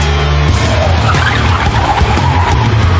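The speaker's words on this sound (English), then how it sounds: "Gallo Raceway hosts Formula Ford Racing, the little brother to the Formula One circuit." Formula Ford race cars at Gallo Raceway, a loud continuous roar of engines with screeching tires and skidding, the cars close by with no talk.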